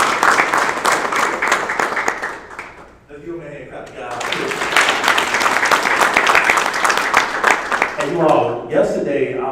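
Audience clapping at a graduation ceremony, a crowd's applause that dips briefly around the third second, then swells again and continues, with talking over it near the end.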